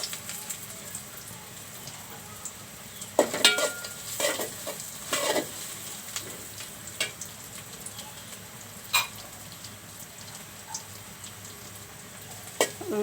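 Bay leaf, cinnamon and cloves frying in hot oil for a chicken and cucumber curry, a soft steady sizzle broken by several sharp spoon scrapes and taps against the pan, no one speaking.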